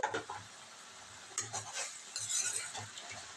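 Onion and tomato pieces softening in a pan, a faint low sizzle broken by repeated light scrapes and clinks of a spoon stirring.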